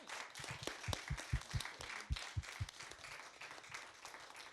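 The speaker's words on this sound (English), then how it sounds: "Can we have a final round of applause, please, for brilliant speakers tonight?" Applause from an audience after an Opéra Comique presentation, a modest crowd clapping with a few distinct nearby claps standing out over the rest, fairly faint.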